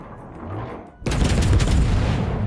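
A heavy naval gun salvo fires in World of Warships from the Japanese cruiser Yoshino, a sudden loud blast with a rolling boom that follows a quieter engine hum.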